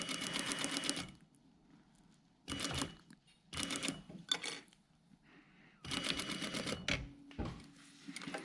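Sewing machine stitching across the top of a vent on a jacket body lining seam, in several bursts of rapid, even needle chatter, close and loud, with short quiet pauses between runs.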